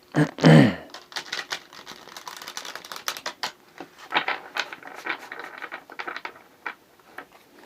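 Tarot cards are shuffled in quick, crisp rattling bursts, one loud riffle followed by a string of lighter flicking clicks close to the microphone.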